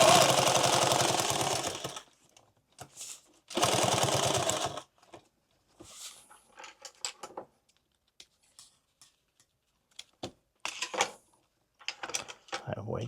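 Sewing machine stitching a single rifle magazine pouch, two long loud runs of steady motor whir near the start, then short scattered bursts and clicks between pauses.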